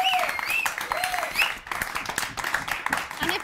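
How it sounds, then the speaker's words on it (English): A studio audience applauds through a short stretch, with a voice talking prominently over the clapping the whole time. "Ladies and gentlemen, round of applause"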